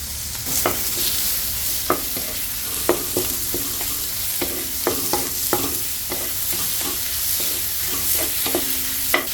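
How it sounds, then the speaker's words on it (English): Ground pork frying in hot oil in a wok, a constant sizzle broken by repeated sharp scraping clicks of a spatula stirring the meat. "Adding in the ground pork"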